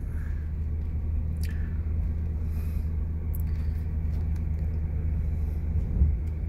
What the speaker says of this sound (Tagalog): So ayan ang eksena ng traffic ngayon dito mga ka-drive.